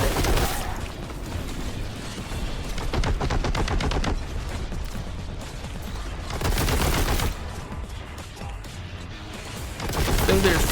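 Rapid bursts of heavy gunfire from Warhammer 40K Boltgun as the player shoots at a core, dense repeated shots swelling louder in several waves across the stretch.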